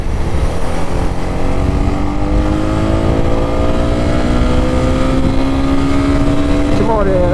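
A 2022 Honda CB300R motorcycle runs through the city with a loud, steady engine hum that slowly shifts pitch, and a rider talks over it.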